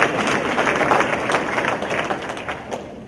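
Audience at a sportsmanship conference applauding a special guest, a dense, steady wash of clapping that fades slightly toward the end.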